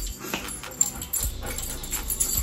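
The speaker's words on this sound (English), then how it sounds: "My sister's dogs are here." Small dogs whimpering and panting close by, soft irregular whines and breaths with a few louder yips over a dim indoor background.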